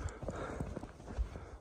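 Horse hooves clip-clopping on the ground as a horse is walked along at a farm, a quick irregular run of soft close thuds with no talk over them.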